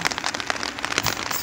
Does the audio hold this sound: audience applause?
no